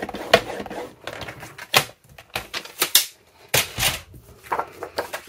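Paper is scored at the half-inch mark with a scoring tool, a run of sharp, irregular clicks and taps spread over a few seconds, close and crisp with short pauses between.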